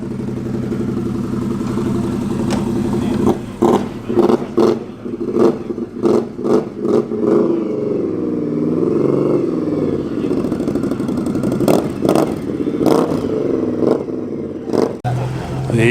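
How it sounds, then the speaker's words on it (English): A Jensen Interceptor drives away from a cars and coffee meet at Combermere, its engine revving with bursts and clattering pulses that swell and fade, loud and close amid outdoor bustle and voices. "The mighty Jensen Interceptor is departing."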